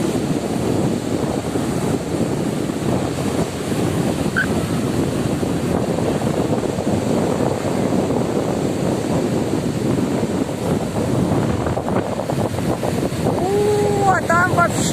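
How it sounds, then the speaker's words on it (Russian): Sea waves washing in on the shore under strong wind buffeting the microphone, a steady loud roar throughout with a faint voice and a brief tonal sound near the end. "Там вообще волны больше, чем тут."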